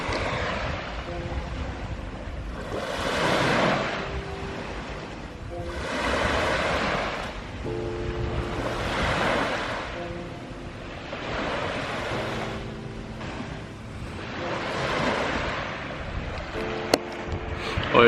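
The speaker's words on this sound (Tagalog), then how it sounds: "Panoorin nyo na yung wave." Ocean waves roll in and break on a beach, each surge swelling and fading in a steady rhythm about every two to three seconds, with wind noise buffeting the microphone throughout.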